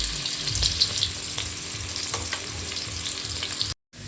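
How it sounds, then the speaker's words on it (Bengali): Bitter gourd pieces fry in hot oil, a steady close sizzle with occasional stirring scrapes, ending in a brief silence. "তেলটা গরম আছে, এর মধ্যে আমি উচ্ছেগুলোকে এবার ভেজে একটা অন্য বাটিতে তুলে রেখে দেবো।"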